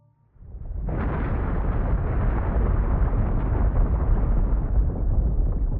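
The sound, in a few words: volcanic eruption sound effect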